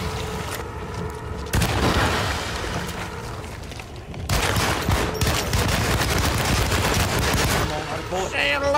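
Sustained gunfire and booming blasts in the survival horror game Alone in the Dark, loud and dense with rapid overlapping shots that swell in two waves.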